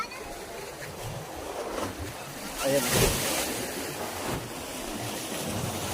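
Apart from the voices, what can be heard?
sea waves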